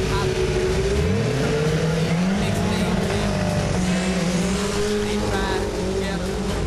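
A car engine roars loudly and climbs in pitch as it pulls away hard, the strained drone rising and shifting through gears.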